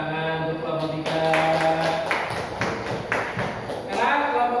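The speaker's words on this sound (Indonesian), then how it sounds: "Tepuk tangan untuk kelompok 3." Classroom applause for a student group during a civics lesson, a burst of uneven clapping from a room of students, moderately close, with voices mixed in over the claps.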